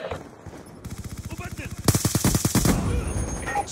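Machine gun fire in a military video game, a steady rapid burst that swells louder partway through, with radio-style voices talking under and around the shots.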